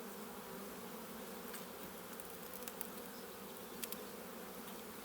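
Buckfast honey bees swarm around an open hive in a Norfolk apiary, a steady dense buzzing hum that fills the whole scene at close range without pause.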